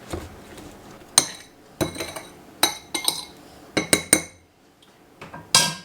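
A utensil mashing room-temperature butter into a mixture in a bowl for a cinnamon pecan topping, with sharp, bright clinks of metal on the bowl in uneven bursts and short pauses between.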